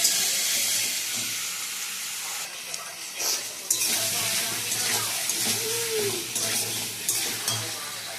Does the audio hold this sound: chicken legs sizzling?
yes